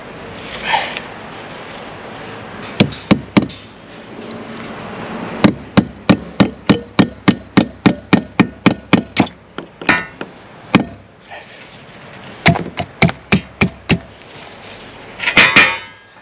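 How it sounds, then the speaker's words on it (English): A hammer drives a nail into a timber lintel above a cavity wall, a run of sharp, evenly spaced close strikes with a few scattered blows before and after. "a nail into the timber lintel just at the back of the angle line"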